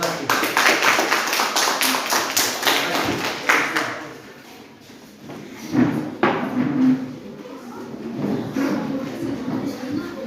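Classroom applause for a student group, a burst of dense hand clapping that fades out after about four seconds, followed by quieter room noise and some talk.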